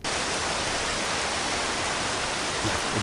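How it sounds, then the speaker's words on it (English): Recorded rain falling steadily, a dense and even wash of hiss and patter that holds at constant loudness for the whole few seconds with no voices. "the first return sound is also the sound of rain."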